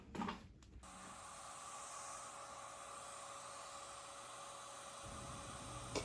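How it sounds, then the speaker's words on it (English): An Earlex 5500 paint sprayer hisses continuously and steadily after a brief knock, with a faint mechanical whine running underneath the spray. "Now look at the spray pattern that I'm getting this time."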